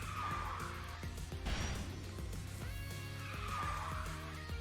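Kart engine drone in the KartRider Drift video game with repeated tire-skid squeals as the kart drifts and counter-steers, loud and continuous throughout with game music underneath.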